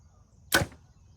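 A single sharp twang and thump of a Hoyt RX3 compound bow release, close and loud, over a quiet background hum.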